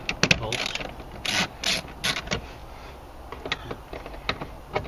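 A ratchet clicks in short, uneven bursts while loosening 10mm bolts on a car's blower motor, close and fairly quiet with pauses between turns.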